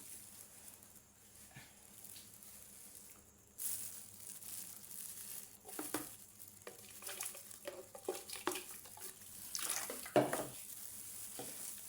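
Caustic soda being stirred into water by hand for making liquid soap, a soft scraping and swishing of the mix that grows busier partway through, with occasional sharper clinks near the end, heard alone without talk.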